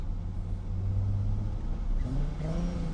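A Toyota Supra with a Precision 6466 turbo, Haltech Platinum Sport 1000 ECU and upgraded injectors idles with a deep rumble and then revs, the engine note climbing near the end, close and fairly loud.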